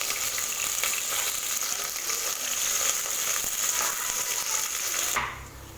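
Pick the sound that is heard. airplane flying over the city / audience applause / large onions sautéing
large onions sautéing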